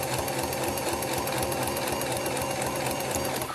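Sewing machine quilting fabric, running in a fast, steady mechanical chatter with an even rapid stitch rhythm, close and continuous without pause.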